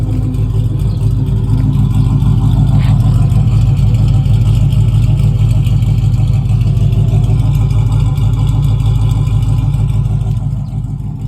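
A 2013 Dodge Charger R/T engine idles and revs steadily nearby through an SLP Loudmouth catback exhaust with BBK headers, its deep rumble loud and continuous with a choppy, lumpy pulse throughout.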